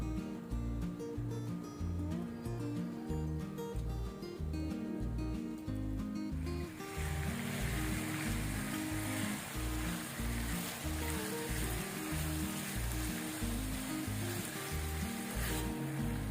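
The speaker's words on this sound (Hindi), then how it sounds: "3 to 4 टेबलस्पून ऑयल डालकर और उसमें हम इसे अच्छा सा फ्राई कर लेंगे" Chicken tikka pieces fry in 3 to 4 tablespoons of oil in a pan, giving a loud, continuous close sizzle that grows brighter and more intense about halfway through, with background music underneath.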